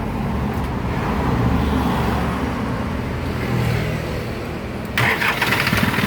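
An Isuzu 4HF1 diesel engine cranks and churns with a dense low rumble, steady and close, ending with a sharp burst of noise as it catches.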